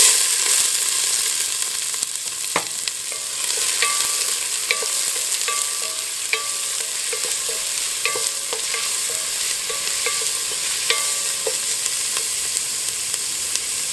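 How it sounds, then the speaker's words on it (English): Onion and cumin seeds fry in hot oil for a North Indian rajma masala, making a steady close sizzle with occasional sharp clicks and scraping taps of a stirring spoon against the pan. "So let's cook this onion for 5 to 6 minutes"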